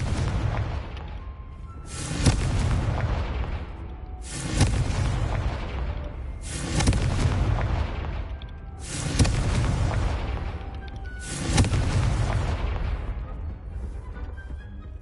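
Five booming Confringo spell explosions from Hogwarts Legacy go off at a steady pace about every two to three seconds, each a loud broadband blast with a long fading rumble.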